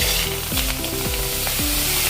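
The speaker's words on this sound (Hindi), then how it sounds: "कढ़ाई में हम टमाटर डाल देंगे" Tomatoes hit hot oil in a kadhai with a loud, steady sizzle and frying crackle, close up and continuous for the whole moment with no voices.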